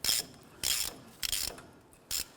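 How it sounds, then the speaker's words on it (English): A ratchet with a 27mm socket tightens the brake rotor nut on a 1993–1997 Ford Ranger, four short metallic clicking bursts spaced about half a second apart, close and fairly quiet with no talk. "I'm going to go ahead and use a 27mm socket on this, and we're going to tighten this down"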